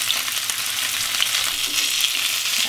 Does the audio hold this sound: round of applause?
no